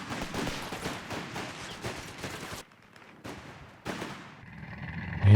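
Dense, continuous gunfire crackles through the first two and a half seconds of a Company of Heroes 3 3v3 battle, then breaks into scattered bursts over a low rumble, ending in a louder hit.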